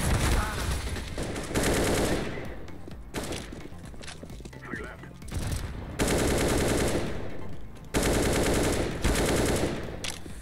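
Automatic rifle spray in the shooter game CS:GO: loud, dense bursts of rapid gunfire, with three long sustained volleys broken by quieter gaps.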